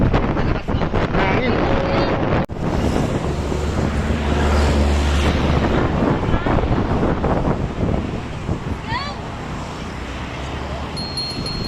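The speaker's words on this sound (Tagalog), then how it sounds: "Grabe naman yan. Hangin." Heavy wind buffets the microphone during a bike ride around Tagaytay, a loud, constant rushing roar with brief gusty swells and faint voices underneath.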